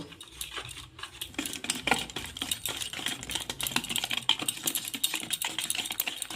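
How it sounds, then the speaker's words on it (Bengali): Powdered sugar being beaten into oil by hand for a soft Christmas fruit cake batter, a fast, steady run of light clicking and tapping strokes that stays close and moderately loud. "চিনির গুঁড়োটা তেলের সাথে আমি খুব ভালোভাবে মিশিয়ে নেব"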